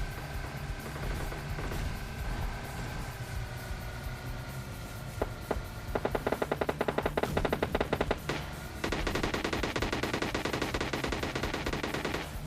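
Rapid automatic gunfire in PUBG Lite, bursts of bullets crackling from several directions over a steady background engine drone, growing denser and more sustained toward the end.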